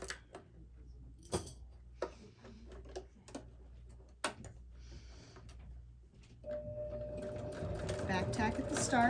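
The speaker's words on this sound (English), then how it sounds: "now I'm going to sew it" A sewing machine stitches a fabric bag, first as scattered ticks and clicks with low handling noise, then running continuously and louder toward the end with a steady mechanical whir.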